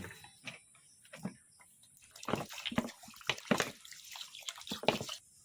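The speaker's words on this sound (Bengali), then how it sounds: "এবার আমি এর মধ্যে জল দিয়ে চালটাকে ভিজিয়ে রাখবো" Water poured into a bowl of washed rice to soak it for chicken biryani, heard as close, intermittent splashing and sloshing in several bursts, fairly quiet, with no talking.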